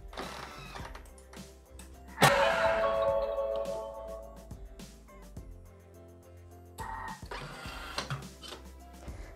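A Thermomix food processor whirs loudly in a short burst, its blades chopping shallot, then stops; a second brief whir follows later, with quiet clatter between.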